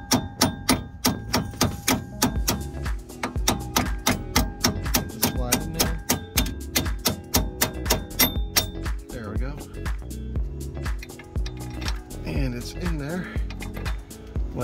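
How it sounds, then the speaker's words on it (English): A hammer strikes a steel wheel stud from the back of a car wheel hub in a fast run of sharp metallic taps. The blows slow to scattered hits, and someone talks over and between them. "I'm probably gonna have to tap on it from the back like this. Let me see if I can just do it with the hammer"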